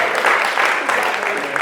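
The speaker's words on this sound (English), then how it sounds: "round of applause for Nathan" A roomful of people at a networking event applaud Nathan with loud, close, continuous clapping that holds steady throughout.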